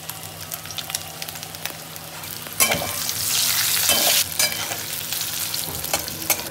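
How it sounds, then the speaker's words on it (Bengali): Boiled potatoes frying in a pan with turmeric and salt give a steady sizzle that swells loud in the middle, with occasional stirring scrapes and no voices. "আলুগুলো কিন্তু সেদ্ধ করা আছে, এগুলো জাস্ট একটু ভেজে নেবো"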